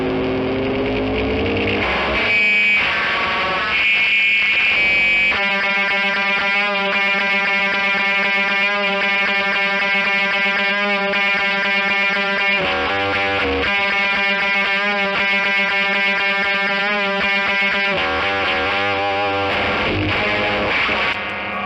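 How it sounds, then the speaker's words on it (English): Electric guitar played through a SansAmp distortion pedal and the rare Pedal X, giving a heavily distorted, buzzing, sustained tone with chugging repeated chords and brief breaks, steady and fairly loud. "I just hooked up the Sans amp distortion pedal."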